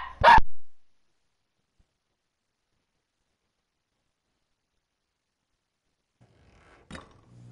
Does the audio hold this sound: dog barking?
yes